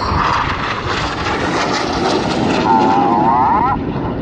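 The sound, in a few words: Red Arrows jet flying past at an air display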